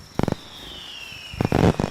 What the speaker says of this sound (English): I hear the fireworks.